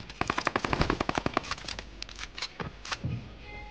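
Automatic gunfire from the mobile battle-royale game PUBG Mobile: a rapid, evenly spaced burst of sharp shots, then a few scattered single shots and faint clatter, fairly quiet overall.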